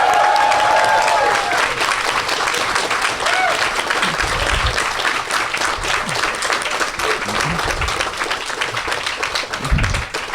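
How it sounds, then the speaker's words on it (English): A crowd cheers and applauds for newly introduced judges at a robot-combat event, a loud, sustained wash of clapping and whoops lasting throughout, with a few voices rising above it. "Can we have a cheer for our new judges?"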